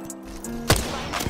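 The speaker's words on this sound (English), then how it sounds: "Getting shot at." Gunfire in the Apex Legends battle royale game: one loud, close, sharp crack stands out midway, with a few fainter shots before and after it over a steady low hum of game ambience. No one speaks.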